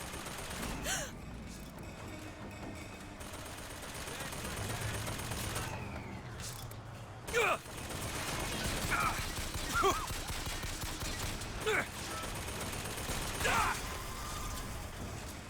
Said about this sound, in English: Reload! Keep shooting!